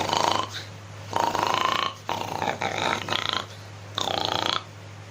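A person imitates a domestic pig's grunting call, the kind of pig kept by hill tribes in Khagrachari: four loud, rough, snorting bursts, each about half a second to a second long, with short gaps between them and a steady low hum underneath.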